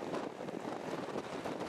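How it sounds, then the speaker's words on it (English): Strong wind gusting around 50 miles an hour at a hilltop fire tower in the Black Hills of South Dakota, a steady, rushing roar that buffets the microphone throughout, with no talk. "the wind was gusting at 50 miles an hour"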